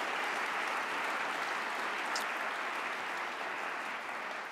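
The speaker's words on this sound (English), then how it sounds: "That's a round of applause for all of us." An audience at the County Executive's Awards for Excellence in the Arts and Humanities claps steadily, a dense, even wash of applause from a large crowd that holds at full strength throughout.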